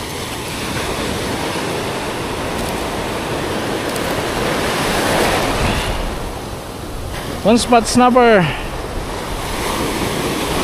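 Strong sea waves wash and roar in a constant broad surge with wind buffeting the microphone, and someone speaks briefly near the end.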